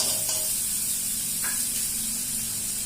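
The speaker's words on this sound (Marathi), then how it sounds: "आता आपण फोडणीला घेतोय चिकन।" Chicken pieces sizzle in melted butter in a pan while being tempered for lemon pepper chicken, a soft, steady frying hiss with faint spattering, fairly quiet and uninterrupted by talk.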